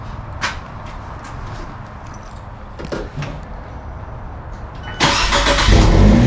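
A 124 Spider after a battery change: faint clicks and knocks around the car, then the engine fires up near the end and runs loudly and steadily, close by.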